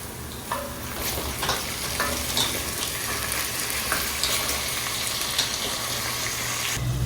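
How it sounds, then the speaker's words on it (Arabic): Carrots frying in a pan, a constant crackling sizzle with occasional soft stirring knocks, steady and fairly close. "الخيزو خليته كيتقلى مزيان"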